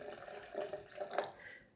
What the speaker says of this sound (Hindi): 1 गिलास ठंडा पानी इसमें मैं ऐड कर रही हूँ